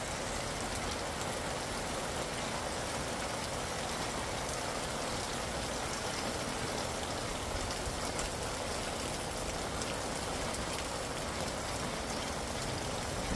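Steady rain falls at an RV campground at Fort Dix, a dense, continuous hiss of drops on surfaces that holds unbroken for the full length with no voices.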